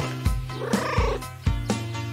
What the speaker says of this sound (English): Let's show the kitties their new home.